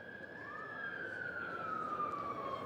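An emergency vehicle siren wails on a busy Soho street near a fire station, one long sweeping tone rising then slowly falling, moderately distant over a steady bed of traffic and city noise.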